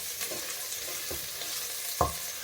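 Onions go into a hot frying pot for Nigerian yam porridge; a faint, quiet sizzle runs throughout, broken by a few soft knocks and one sharper clunk near the end.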